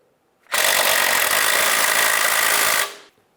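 A power tool snugging bracket bolts in the wheel well of a Volkswagen Jetta, one continuous loud, even whir that lasts a little over two seconds and then cuts off, no talking.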